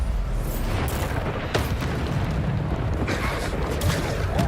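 Spell blasts from the Bombarda explosion charm in Hogwarts Legacy, heavy booming bursts that land loud and close, one after another in a dense, noisy run with no pause.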